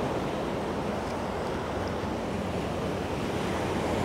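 Ocean surf rolls onto a beach as a loud, continuous roar, with gusts of wind buffeting the microphone.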